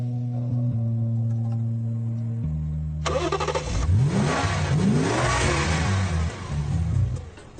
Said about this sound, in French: J'arrive pas à croire qu'ils partent avec votre voiture